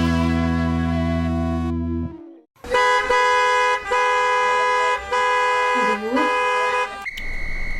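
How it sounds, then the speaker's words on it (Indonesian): Car horns honking in a Jakarta traffic jam, several long sustained blasts broken by short gaps, loud and close, with a steady different tone at the end. "Macet banget sini Jakarta."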